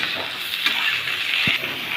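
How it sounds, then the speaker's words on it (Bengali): Round slices of bitter gourd dropped into hot mustard oil give a loud, steady, close frying hiss across the whole moment, with a few soft knocks from the pan. "এখন আমরা গোল গোল করে কেটে রাখা করলাগুলো তেলের ওপরে দিয়ে"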